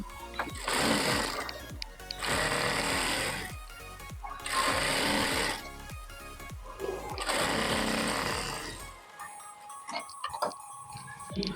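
Sewing machine stitching along a folded fabric strip for a saree-made lehenga, four steady bursts of close, even whirring separated by short pauses, ending in quiet handling clicks.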